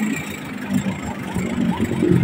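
An Isuzu 4BC2 diesel engine blowing white smoke runs at a rough, low idle, a close chugging rumble that swells slightly toward the end, with no talk over it.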